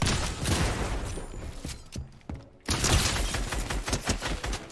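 Dense rapid gunfire from a video game battle, loud and continuous bursts that briefly stop in the middle before the shooting resumes just as heavily.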